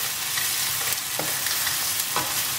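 Onions frying in a pan for butter chicken, a continuous loud sizzle with crackling pops and occasional stirring scrapes, close up with no talking.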